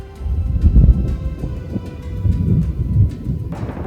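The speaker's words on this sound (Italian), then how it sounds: "temporale che si fa sentire." Deep rumbling thunder from a nearby mountain thunderstorm, a low rolling growl that swells and fades over several seconds, with a faint breath of wind.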